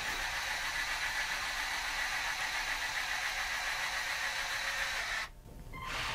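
A small electric motor on a LEGO Technic Merlo ROTO telehandler whirs steadily as the boom with its hidden gear rack extends, close and continuous, then cuts off near the end; no talking.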